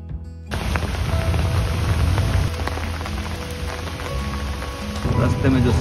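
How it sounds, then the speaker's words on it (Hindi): Heavy rain pours down on a dirt track in a park in Korea, a loud, constant roar of drops with a deeper rumble beneath it that swells near the end. "बारिश बहुत हो रही है यार"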